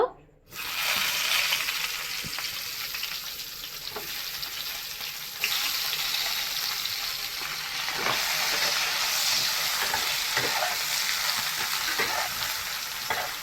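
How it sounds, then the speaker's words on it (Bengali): Steady sizzling of eggplant frying in hot oil on a gas stove, with occasional clinks and stirs of a utensil; the sizzle grows slightly louder partway through as the flame is turned up. "এই তেলে আমি বেগুনটাও ভেজে নেব।"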